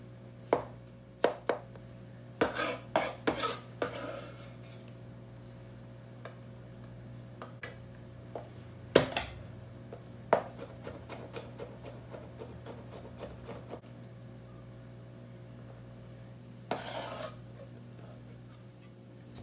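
A knife finely chopping shallots and garlic on a cutting board, in bursts of rapid taps separated by pauses, close and clear with no voices.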